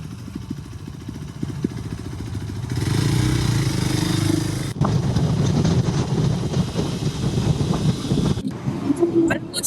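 Motorcycle on a solo highway ride, its engine droning steadily with strong wind buffeting on the microphone, the rider speaking over the noise.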